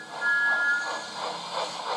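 A small tank engine puffs away with rhythmic steam chuffs and hiss, fairly close and steady, a brief whistle-like tone at the start.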